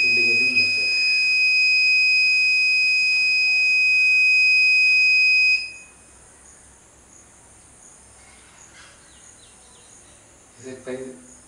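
A steady high-pitched electronic buzzer tone from an ESP32 air quality monitor's gas alarm sounds for several seconds, then cuts off, leaving quiet background with a few faint knocks.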